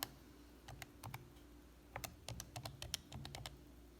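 Quick plastic key presses on a graphing calculator while an equation is entered, a run of crisp, close clicks in an uneven rhythm, sparse at first and then denser, over faint room hum.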